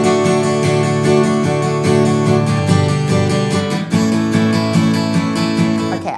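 A guitar is strummed on every sixteenth note with muted strings, giving a steady, busy stream of percussive chops layered over ringing chord tones, loud and continuous throughout.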